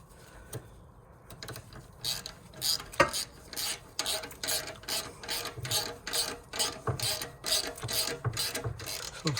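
Ratchet tightening the rear exhaust silencer clamp on a Ford Mondeo Mk3 2.0 TDCi estate: repeated quick clicking strokes in an irregular rhythm, close and fairly loud, with no voices.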